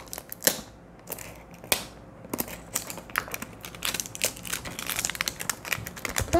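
A cutter scratches and slices through a thick plastic seal on beauty product packaging, giving close, faint, irregular clicks, crinkles and scraping cuts.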